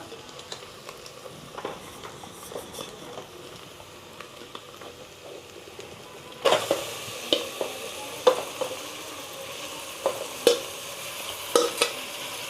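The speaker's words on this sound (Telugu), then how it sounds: "మంచిగా బోటి వేసుకొని కలపాలి" Mutton boti, or tripe, fries in a pan as it is stirred, a low sizzle at first, then a louder hiss with sharp spoon knocks against the pan at irregular intervals.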